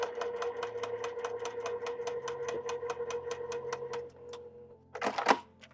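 Sewing machine stitching a quarter-inch quilt seam on tiny pieces, a fast even run of close mechanical needle clatters for about four seconds, followed by a short burst of handling rustle.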